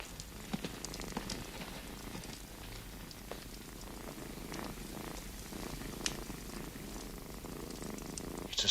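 A cat purrs steadily and softly throughout, a low continuous rumble close by with faint patter like light rain in the background, no talking.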